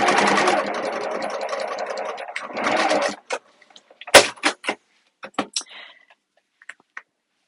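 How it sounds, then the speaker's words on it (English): A sewing machine stitches a satchel strap in quick rapid-fire runs of needle clatter for about three seconds, then stops, followed by scattered soft clicks and handling taps nearby. "fold over the second half, so across, and then sew the other half down."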